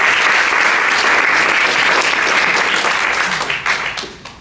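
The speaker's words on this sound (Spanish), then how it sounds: "Denle un aplauso al Señor" A church congregation claps loudly and steadily in a dense burst of applause that fades out near the end.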